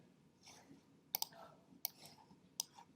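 A computer mouse clicking in a quiet room, three or four sharp, faint clicks spaced about a second apart over low background hiss.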